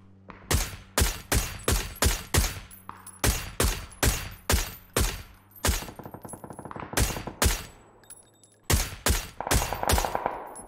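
Rapid gunfire in the PUBG video game, aimed at a vehicle's tires: about twenty loud, close shots in quick bursts with brief pauses between strings, alone without talk.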